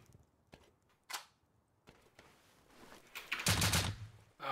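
Shotgun blasts in the survival game Rust: a few sharp, loud reports with a heavier burst near the end, separated by quieter clicks and handling noises.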